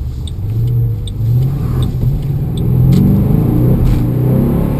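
A Ford Mustang Bullitt's cold engine revs up and down in loud, close, rumbling surges over a steady idle, with light clicks above it.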